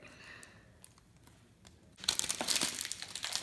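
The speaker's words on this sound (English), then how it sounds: "Alright, I'll use the scissors." Quiet handling at first, then a loud burst of crinkling and snipping plastic as scissors cut through the packaging of a Nintendo Switch game, continuing close to the microphone.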